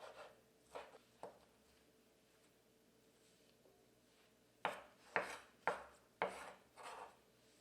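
Pork rinds for Vietnamese nem chopped on a board, a few soft knife strikes, a pause, then a run of sharper rhythmic chops close up, fairly quiet.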